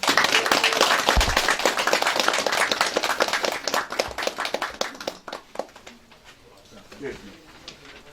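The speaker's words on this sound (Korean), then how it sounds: "그럼 김종인 서구청장 출마 예정자를 뜨거운 박수로 맞이하겠습니다" A crowd at a political campaign event in Incheon gives a speaker a warm welcome with loud, dense clapping that thins out into scattered claps and fades near the end, with some voices underneath.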